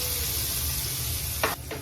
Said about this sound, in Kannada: ಇದಕ್ಕ ಸಣ್ಣಗೆ ಹೆಚ್ಕೊಂಡಿರುವಂತ ಉಳ್ಳಾಗಡ್ಡಿನ ಹಾಕ್ತಾ ಇದ್ದೀನಿ ನಾನು. ಇದು ಉಳ್ಳಾಗಡ್ಡಿ ಕಾಯಿ ಆಗೋ ತನಕ ಹುರ್ಕೋಬೇಕ.